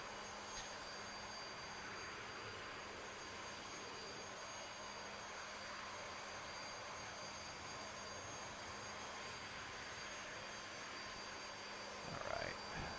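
A UH-60L helicopter's auxiliary power unit in a flight simulator game hums as a steady, faint, unchanging whine with a low drone beneath, continuous throughout with no talk.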